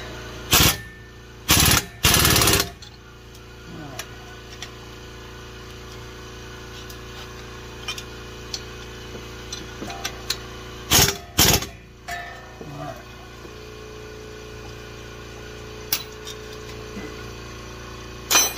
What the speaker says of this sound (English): Turn the impact to the nut side so I don't mess up the serrations on those bolts